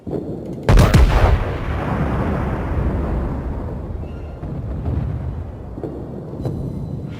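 Naval guns of the ARP Haruna battleship fire in the World of Warships game as one sharp, loud salvo, followed by a long rumbling roar and a few distant booms.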